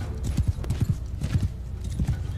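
Horses galloping in Mount & Blade II Bannerlord, a steady run of clip-clop hoofbeats in quick rhythmic clusters, fairly close and loud, with a faint hint of battle noise behind.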